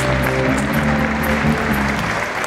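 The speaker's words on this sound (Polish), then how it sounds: "te brawa są jak najbardziej zasłużone" Sustained applause from a crowd at a regional sports awards gala, dense steady clapping filling the room at an even level throughout with a faint voice briefly underneath.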